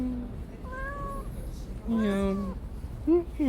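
A pet cat named Lui gives a few distinct meows on the way to Dong-baek Lake Park, short rising cries spaced apart over a low background rumble, close by and clear, with a human voice imitating the meow.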